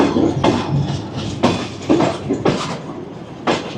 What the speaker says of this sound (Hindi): और ट्रेन स्लो हो चुकी है खानेवाल जंक्शन पर स्टॉप ओवर के लिए।